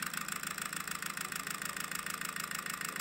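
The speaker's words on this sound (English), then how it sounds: "But yeah, a very elegant little engine." A small Old Model Company OMC-3 Froment eddy current model engine runs steadily, giving a fast, even, rhythmic buzzing whir with a regular pulsing beat, close and continuous with no voices.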